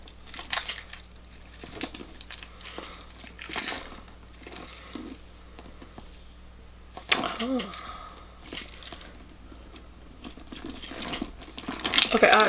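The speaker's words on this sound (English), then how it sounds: "I found my keys. My Louis Vuitton key thing is on here." A ring of keys on a Louis Vuitton key holder jingles and clinks in short bursts while being handled and pulled from a handbag, loud and close, with someone talking in between.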